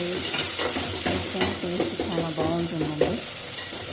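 Fish curry with tomatoes cooks in a pan, a steady close sizzle of frying with repeated scraping and stirring sounds across a few seconds, no one speaking.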